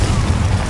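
A Confringo explosive spell bursting in the Hogwarts game, a loud, close, low blast with heavy rumble lasting under a second.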